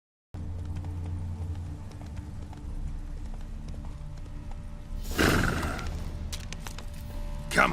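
Roach, the horse in The Witcher 3, clip-clops along with steady rhythmic hoofbeats, moderately near, with a short whinny and a burst of louder movement near the end.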